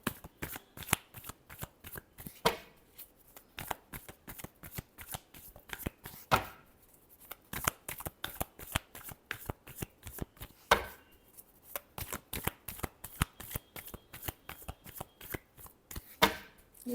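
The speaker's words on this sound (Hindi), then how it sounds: "last shuffle" Tarot cards shuffle in quick, crisp riffling bursts, close and fairly quiet, with a steady patter of card flicks broken by a few sharper snaps and short pauses between rounds.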